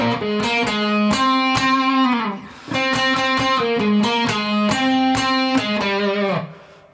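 A distorted electric guitar plays a solo riff, a rapid run of punchy power-chord stabs and held notes with a brief dip midway, loud and up close with no talk.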